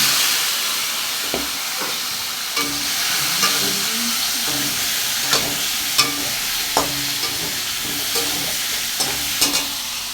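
Pieces of sankor fish sizzle steadily in hot oil with ginger, garlic, onion and bay leaf while being sautéed, with a constant frying hiss and intermittent scraping stirs close up.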